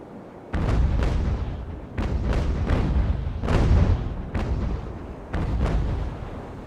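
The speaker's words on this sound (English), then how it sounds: "So we'll swing around to the port side for a starboard side broadside." A sailing warship fires a cannon broadside in Ultimate Admiral: Age of Sail, a series of loud booming blasts in quick overlapping volleys, each rumbling and tailing off before the next bursts in.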